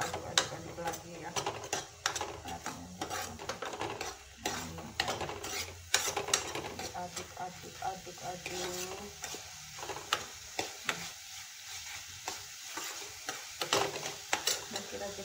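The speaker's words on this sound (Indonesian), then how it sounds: "Jadi diaduk-aduk lagi ya." Vegetable masala stirred in a frying pan for a Nepali vegetarian dish, with quiet steady sizzling and rapid, irregular scraping and clattering of a spoon against the pan.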